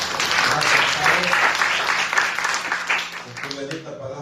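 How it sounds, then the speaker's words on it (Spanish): A church congregation bursts into strong, sustained applause after a sermon, dense clapping that gradually thins toward the end as a voice begins speaking. "Denle un fuerte aplauso, Señor"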